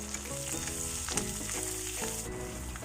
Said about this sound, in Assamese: এই আলুকেইডোখৰো ৰঙাকৈ মই ফ্ৰাই কৰি ল'ম।